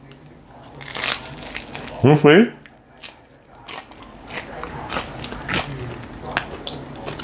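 A crunchy yet soft rich pizza crust being bitten, one loud close crunch amid quieter chewing, with a person talking briefly.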